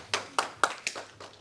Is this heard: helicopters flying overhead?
no